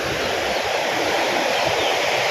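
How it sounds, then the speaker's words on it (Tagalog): Strong sea waves crash and churn in a steady, dense roar of surf close by, continuous across the whole moment with no voices. "Malakas ang alon"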